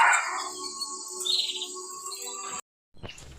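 Goldfinches and canaries chirp and trill steadily in an aviary, with bright, overlapping calls at moderate volume. The sound cuts off abruptly near the end and is followed by a short burst of other noise.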